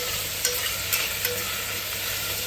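Onion and spices fry in a pan with a continuous bright sizzle and a few soft stirring clicks. No voices are heard.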